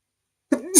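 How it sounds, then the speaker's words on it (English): A single short sneeze from a person, alone after a moment of silence, sharp and close. "I'm just sneezing."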